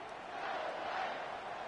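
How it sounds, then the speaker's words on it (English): A video game stadium crowd chants and roars at a college football game, a dense, steady wash of massed voices that holds at an even level for under two seconds. "The go green, go white chants are electric."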